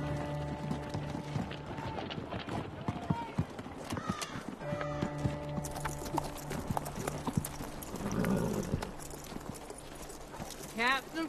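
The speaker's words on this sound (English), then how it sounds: "Horses here, sir." Horse hooves clip-clop steadily at close range in a Wild West setting, with creaking tack and mechanical rattles among them, and voices talking in the background.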